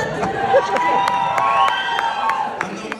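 An audience at a stage show claps and cheers in a large hall, with sharp scattered claps over a continuous roar of voices and whistles that fades at the end.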